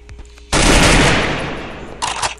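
Rapid automatic gunfire from a video game bursts out loud and dense, a sustained volley that tapers off before a shorter second burst.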